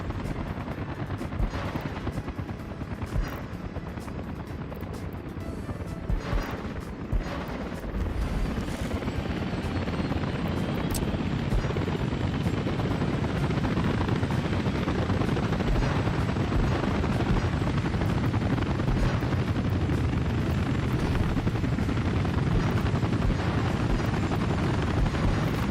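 Space shuttle Discovery's engines thunder at launch in a deep, continuous roar that builds and then holds loud and steady, with crackling bursts near the start and no voices over it.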